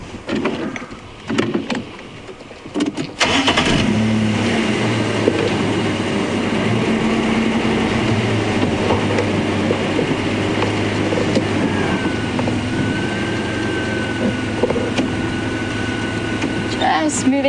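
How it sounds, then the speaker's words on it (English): A safari vehicle at Djuma Game Reserve is shifted out of low range, starting with a few clunks and rustles before the engine settles into a steady, close drone that continues throughout. "Just moving the car out of low range. I had it in low range just to keep the revs down when I was with the lions."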